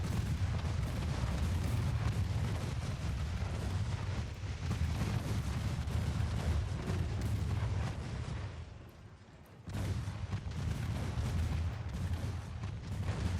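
Continuous barrage of naval gunfire in Ultimate Admiral Dreadnoughts, a dense rumbling roar of countless small shells and booms that briefly dips before resuming.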